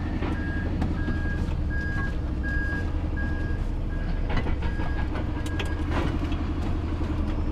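A truck's reversing alarm beeps in a steady repeating pattern, about a dozen evenly spaced tones, over loud engine rumble and road noise while the lorry shunts backwards on a UK street.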